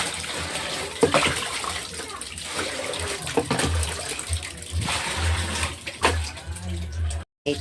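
Tap water gushes and splashes into a storage container, a steady running pour with a few louder splashes, while a person talks over it.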